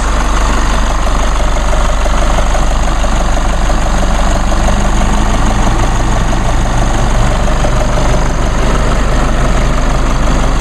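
A 2016 Chevrolet Colorado LT 4x4 with the 2.8 liter Duramax diesel idles in a steady, even low rumble, with a light diesel clatter running unbroken and fairly close.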